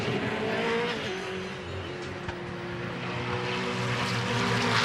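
V8 Supercars racing hard out of turn 2 at Ipswich during a 2011 race, with loud engines roaring past in a dense, continuous blare that swells and fades as the cars pass.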